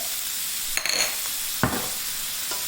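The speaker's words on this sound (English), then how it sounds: "I'm just going to saute this down until the pork changes color" Pork for Thai drunken noodles sizzles and hisses steadily in a hot pan, broken by a few brief stirring scrapes and clanks.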